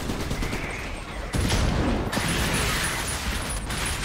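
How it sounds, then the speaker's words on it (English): Grenade rounds fire in the video game Trenched as a dense, continuous burst of gunfire and explosive noise, loud and sustained for several seconds, with mechanical clatter underneath. "Oh, those are grenade rounds."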